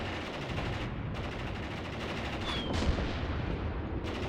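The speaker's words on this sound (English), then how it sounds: "this gun is now actually getting targeting towards the T-34 and firing" Anti-tank gun fire aimed at a T-34 tank in the WW2 video game Mius Front, heard as a dense, continuous roar of gunfire and battle noise lasting the whole stretch with no clear separate shots.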